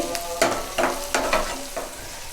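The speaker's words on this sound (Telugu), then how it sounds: "ఈ ఆనియన్స్ పచ్చిమిర్చి పసుపు అన్నీ కొంచెం దోరగా వేగాలండి" Onions, green chillies and turmeric frying in a pan, with a steady close sizzle and several scraping strokes of a spoon stirring at a regular pace.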